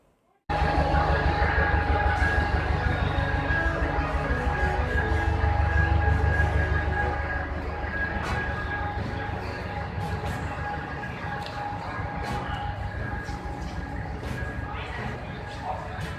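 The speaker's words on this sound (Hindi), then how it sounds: "चलने वाली रेलगाड़ी जयनगर पहुंच रही है, जो भारत के चेन्नई में निर्मित हुई" A small five-coach passenger train built in Chennai rumbles loudly and continuously into Jaynagar station, its steady mechanical roar and faint rail clatter filling the scene before easing slightly in volume.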